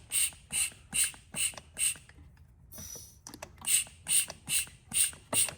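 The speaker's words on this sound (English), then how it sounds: "We'll just basically create a vacuum and see that those flaps open." Vacuum pump being worked on the intake runner flaps of a 2017 Porsche Macan 2.0L turbo intake manifold, a steady series of sharp rhythmic clicks, about two per second, briefly pausing midway, close and clear with no talk.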